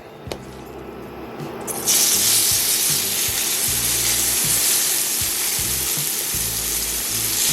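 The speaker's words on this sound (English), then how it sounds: "Then you start just putting that old meat in that old skillet and browning her up." Meat browns in a skillet on an induction cooktop; after a quiet start with a click, a loud sizzle erupts and holds steady, with scraping and stirring noises running beneath it.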